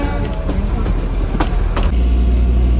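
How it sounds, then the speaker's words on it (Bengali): The Darjeeling toy train pulls out of New Jalpaiguri station, a continuous loud rumble of wheels and carriages rolling along the track with a few sharp metallic clanks, heard close with no talking. "আজ ঠিক সময় মতোই টয় ট্রেন ছেড়ে দিয়েছে"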